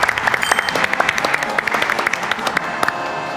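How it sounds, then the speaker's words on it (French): An audience applauds steadily at a televised quiz show semi-final, many hands clapping at once in a dense, even wash of sound that carries on throughout. "On peut les applaudir."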